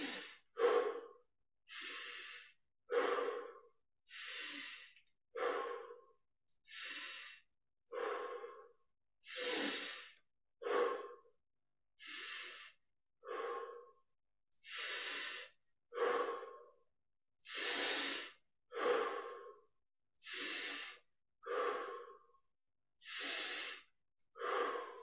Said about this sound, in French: On prend 20 respirations profondes.